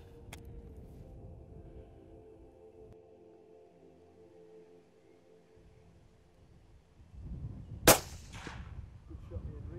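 A single sharp rifle shot cracks out during a roebuck hunt in Oxford, after a long stretch of quiet, wind-touched outdoor background.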